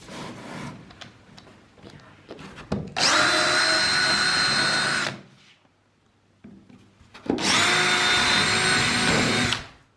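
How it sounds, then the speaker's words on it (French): A power drill bores into a wooden board in two loud, close bursts of about two seconds each, separated by a quiet pause, with faint handling knocks before the first. "on va pouvoir refaire un petit perçage de chaque côté pour solidariser le petit côté avec le grand côté"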